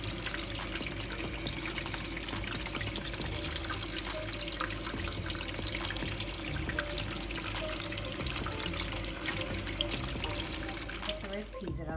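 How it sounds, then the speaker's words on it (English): Steady running tap water pours continuously while vegetables and ground provisions are washed for a Jamaican Ital stew, a loud close hiss filling the whole stretch. "Ensure that all your grown provisions are properly washed."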